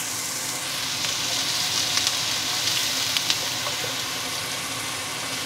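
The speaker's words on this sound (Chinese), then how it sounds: "再倒埋啲洋葱落去。" Onions sizzle and hiss in a hot wok while being stir-fried for fried rice, a steady close frying crackle with a few light clinks of stirring and no talking.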